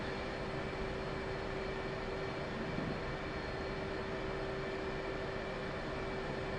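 Steady, faint F-18 jet engine drone in the DCS World flight simulator, a continuous hum with a constant tonal whine that holds unchanged for several seconds and has no talk over it.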